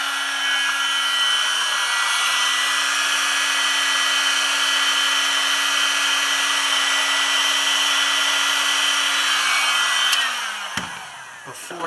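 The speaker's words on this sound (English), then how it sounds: "I choose to use a heat gun instead of a lighter because I can control the heat better" Heat gun blowing steadily on heat shrink tubing over a lengthened power lead for fishing lights, a constant close whir with a fan hum, then cutting off abruptly near the end and winding down.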